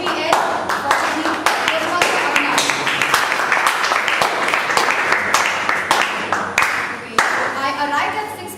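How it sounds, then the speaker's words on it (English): Loud indoor applause from an audience at a team event, many hands clapping close by in a sustained, uneven rhythm, with some voices and a child's speech underneath. "Please give a big round of applause for the BPS, for the team."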